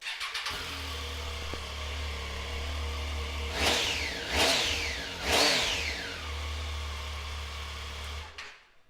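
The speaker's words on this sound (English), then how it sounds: "you get that intake noise and the exhaust, great." A 2010 Triumph Street Triple 675 R motorcycle engine fires up close by, settles into a steady idle, and revs twice before cutting off.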